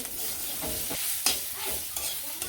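Food fries in a pan with a continuous sizzle while a utensil stirs it, producing scraping strokes and soft knocks at irregular intervals.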